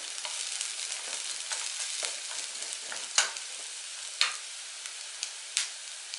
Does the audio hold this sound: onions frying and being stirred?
yes